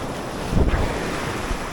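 Ocean waves wash onto Mattu Beach in India under steady wind, with one brief surge swelling and receding in the middle.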